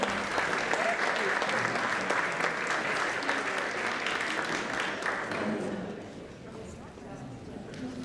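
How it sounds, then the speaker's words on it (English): Audience applause for presenter Steve Spence at an award presentation, a dense, sustained roomful of clapping that fades down toward the end, with voices faintly mixed in. "Big round of applause for Steve, please."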